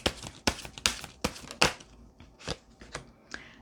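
A deck of tarot cards is shuffled by hand in sharp, irregular riffling bursts, crisp and close, with a few quieter flicks between the louder snaps and no voice.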